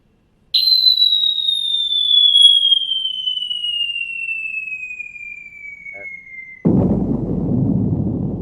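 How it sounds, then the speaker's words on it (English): Falling projectile gives a long, descending whistle lasting several seconds, then a sudden loud bomb-like explosion on impact, booming and rumbling as it fades. "It sounds like a fucking bomb, dude, hitting."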